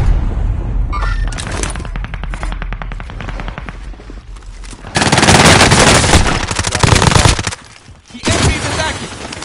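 Heavy incoming gunfire during a PS versus PC online shooter kill race, loud automatic bursts and rapid shots coming in waves, with a dense barrage in the middle and players' voices mixed under it.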